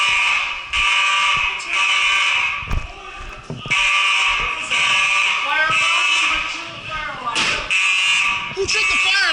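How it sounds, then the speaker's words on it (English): A building fire alarm blares with a loud, continuous electronic tone that holds steady for several seconds, broken by brief dips and knocks, while people talk underneath. "Somebody tripped the fire alarm."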